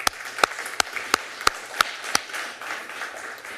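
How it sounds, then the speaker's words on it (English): A handful of sharp, separate claps ring out in a Costa Mesa city council meeting chamber, roughly seven distinct hits over a low room murmur, then the clapping fades into background noise. "I want to give her a round of applause."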